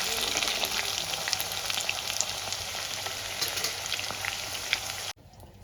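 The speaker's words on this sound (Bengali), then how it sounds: "আলুগুলো আমি এরকম লাল লাল করে ভেজে নেব" Potato pieces fry in hot oil until reddish-brown, with a steady, dense sizzle and scattered crackles close by; the sizzle cuts off abruptly near the end, leaving quieter room noise.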